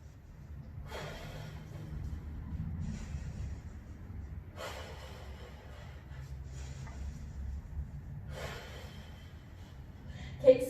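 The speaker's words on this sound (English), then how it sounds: "10 big deep breaths" Deep breathing during the Pilates hundreds mat exercise: three slow, airy breaths spaced several seconds apart, fairly quiet over a low steady background hum.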